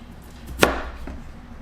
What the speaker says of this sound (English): cut the potatoes